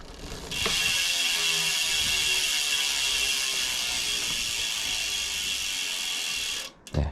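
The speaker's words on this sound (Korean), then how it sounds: "라쳇 소리 참 좋습니다" Steady, rapid ratchet clicking from the freehub of a 2025 Madison New Delta 10SE mini velo bicycle, a continuous close buzzing whir that runs for several seconds before cutting off abruptly.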